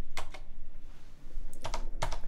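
Typing on a computer keyboard in a Linux desktop session: a few short bursts of keystrokes, a quick pair near the start and another cluster near the end, close and fairly clear over low background noise.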